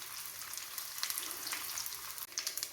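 Onion and curry leaves frying in a pan for a prawn, jackfruit seed and mango curry, a fairly soft, close sizzle with small crackles and a few brief stirring scrapes.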